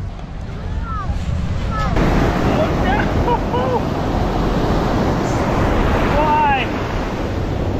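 Ocean surf rolls onto a beach with steady, loud wind buffeting the microphone, and seabird-like calls above it. People speak briefly over the noise.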